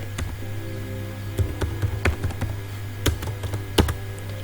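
Typing on a computer keyboard while coding an HTML and CSS login form: irregular close key taps and a few heavier thunks over a steady low hum, no talking.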